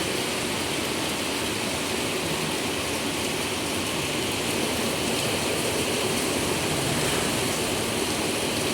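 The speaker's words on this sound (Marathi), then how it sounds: "तर हा एक कोकणातला पाऊस बघू शकता तुम्ही किती मुसळधार पडतोय." Heavy monsoon rain in the Konkan hills pours down in a dense, continuous roar, steady and unbroken, with no voices.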